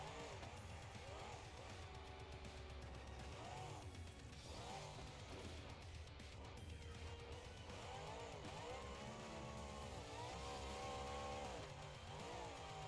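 A monster truck engine revs hard at a stadium racing event in BeamNG.drive, its pitch rising and falling in repeated sweeps under steady commentary from people talking.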